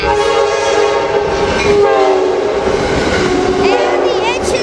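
An Amtrak train on the Surf Line at San Juan Capistrano sounds its horn loudly and close, a sustained chord over the rumble of rolling cars, while a person talks underneath.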